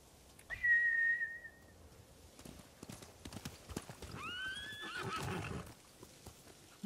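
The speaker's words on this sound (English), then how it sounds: "Bastards scared off the horses." Hooves clatter in quick irregular beats while a horse gives a whistle-like call, then a second rising whinny over the trotting, with no voices; samurai horses in a video game.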